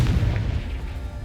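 Confringo blasting spell going off in Hogwarts Legacy, a single deep, booming explosion that hits hard at first and then rumbles away over about a second.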